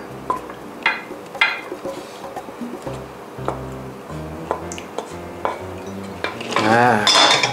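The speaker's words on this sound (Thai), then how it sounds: "คลุกเคล้าให้เข้ากันเท่านั้นเอง มันก็จะข้นขึ้นครับ เทใส่ใน ถ้วยตรงนี้ได้เลยนะ" Crispy morning glory salad, a vegetarian dish, is tossed in a bowl with a spoon, giving repeated clinks and scrapes of utensils against dishware, close and clear, ending in a louder burst of stirring and pouring.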